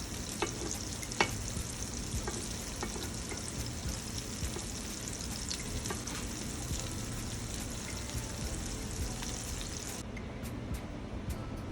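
Shrimp fry steadily in oil in a pan, a constant close sizzle broken by clicks and scrapes as the pieces are stirred and turned, with no talking over it.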